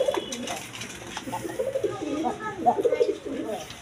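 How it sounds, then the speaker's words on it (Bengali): Pigeons at a bird market coo softly in repeated bubbling phrases, close by, with a faint background hum. "ছটপড়া কবুতর দেখেন,"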